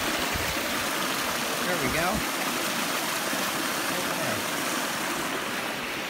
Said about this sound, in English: Right down here is a culvert, which is filling up a mini waterfall.